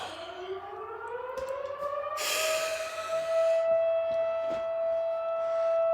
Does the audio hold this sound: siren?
yes